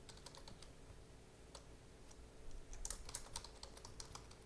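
Rapid keystrokes on a computer keyboard while an SQL update query is typed, a steady run of light clicks with a denser, louder burst near the end, close and alone.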